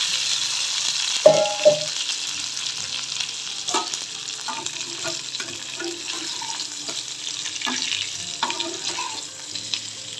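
Mustard seeds, urad dal, dried chillies and curry leaves temper in hot oil with a soft sizzling hiss, broken by scattered utensil clinks and scrapes at close range.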